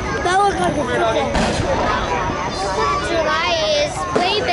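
Fireworks bursting at the Miamisburg Riverblast, repeated booms and crackles at a distance under a crowd's chatter and nearby voices talking throughout.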